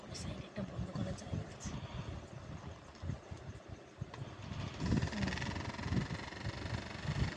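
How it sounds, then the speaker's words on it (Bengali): A homemade toy helicopter's small motor and spinning rotor give a steady, close whirring buzz that runs through the whole stretch and grows a little louder in the second half, with a voice talking over it. "পুরো আসল হেলিকপ্টারের মতো আওয়াজ হচ্ছে করে"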